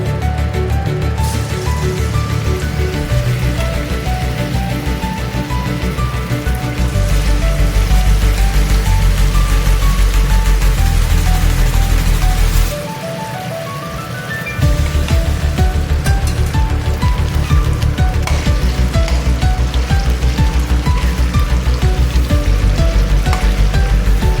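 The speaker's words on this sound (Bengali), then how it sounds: "তেল গরম হয়ে গেছে, আমি এখন দিয়ে দিব ম্যারিনেট করা চিকেন।" Marinated chicken pieces frying in hot oil for chicken chilli, a loud steady sizzle and crackle that runs continuously, with a brief quieter dip partway through before the frying noise returns at full strength.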